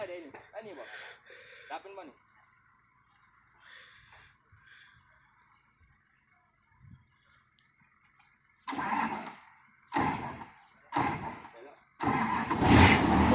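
An S700 vehicle cranks and fires up in a few loud, broad bursts near the end, following a long quiet stretch with scattered talk and faint ticking.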